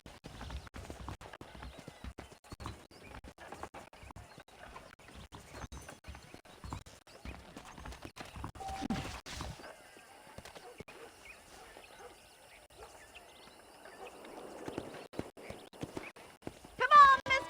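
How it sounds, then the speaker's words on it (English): Horse hooves clip-clop in the Red Dead Redemption video game, a dense run of quick hoofbeats with game ambience and a little bird sound, then quieter passages and a louder burst near the end. "The horses are saddled up over here."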